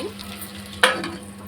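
Food sizzles and fries in a pan under a brief scrape of stirring, with one sharp crackling burst partway through; close and moderately loud.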